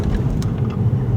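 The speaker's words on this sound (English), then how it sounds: "Here we come across a bump at 20 miles an hour." A car drives down a bumpy road at 20 mph, with a steady low cabin rumble and a single soft thump as it goes over a bump.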